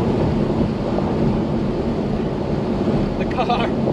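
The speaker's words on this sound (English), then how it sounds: "Noise and a lot of turbulence in the cabin as we push on" Heavy wind buffeting and turbulence in the open cabin of a Lamborghini Huracan Performante Spyder driven with the roof down, a loud constant rushing roar under a voice.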